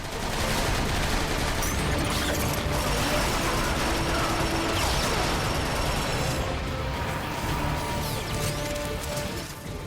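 Dense, continuous video game gunfire from Transformers Fall of Cybertron, rapid mechanical blasts and clattering shots layered into a loud, unbroken barrage with scattered sharper cracks throughout.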